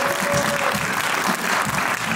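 Continuous clapping fills a hall at a children's report concert of the Chinchraka studio, loud and even across a couple of seconds with no break.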